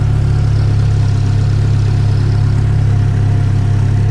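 Toyota Dyna truck stuck on grass, its engine droning steadily and loudly at a constant low pitch while the rear wheels spin, with no voices.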